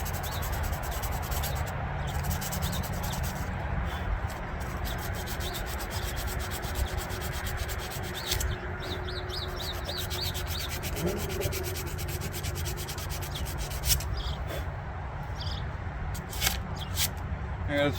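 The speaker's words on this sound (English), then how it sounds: "I'm going to get a little bit of sandpaper and clean that up." Small piece of sandpaper rubbed by hand over a metal electrical contact while building a 24 Hours of Lemons racecar, a steady close scratchy rasp running continuously with brief pauses and occasional faint knocks.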